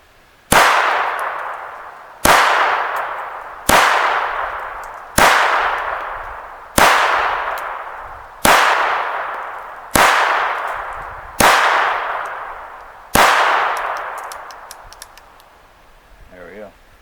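A Walther P22 pistol in Angel Blue fired at steel targets: nine sharp, loud shots at an even pace about a second and a half apart, each followed by a ringing decay, then quiet.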